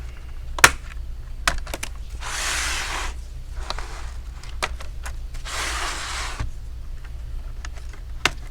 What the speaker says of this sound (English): get a plastic prying tool. Go to the corner and slightly open up the back plate